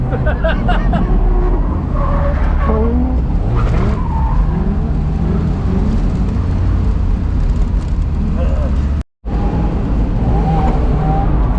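A drift car spins out at Piedmont Drift, its tires squealing and skidding over a loud, roaring engine heard from inside, with a brief cut in the sound near the end.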